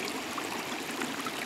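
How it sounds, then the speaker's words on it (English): Creek water rushing downhill through a wet California creek bed, a steady close splashing and gurgling flow without any voices. "Man, there's a lot of water coming down."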